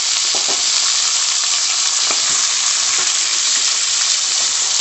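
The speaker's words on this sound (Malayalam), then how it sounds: "നമുക്കിനി ഇതിലേക്ക് കായ ചേർത്ത് കൊടുക്കാം" Plantain pieces hit a hot tempering of mustard seeds, urad dal and chillies, giving a loud, steady close-up sizzle with scattered stirring clicks and no voices.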